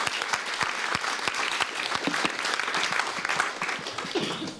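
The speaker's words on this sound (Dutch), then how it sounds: "Graag een warm applaus." An audience at a literary evening claps warmly, a dense run of many hands clapping steadily throughout, indoors and close.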